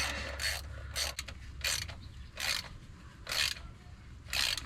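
Metal tool work on a forgotten Chevy Vega's clutch and transmission, backing out a nut while a screwdriver holds it: repeated bursts of ratcheting, clicking mechanical noise come in rhythmic pulses about every second, close and fairly loud, with no talk.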